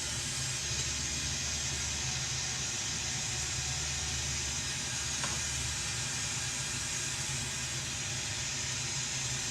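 A glassmaking torch flame roars with a steady, even hiss while melting a small black dot of glass into a 2.5-inch galaxy vortex marble, constant and close throughout with no change in level.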